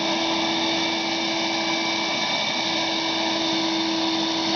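Five-horsepower driveway vacuum running steadily, a loud continuous whining roar with a high tonal hum as it sucks up dirt and pine needles, no talk over it.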